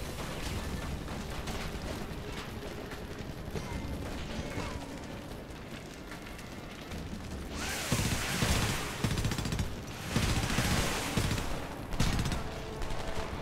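Enemy gunfire in the shooter Homefront, heavy sustained volleys that swell into loud bursts and explosions in the second half, with brief speech in the mix.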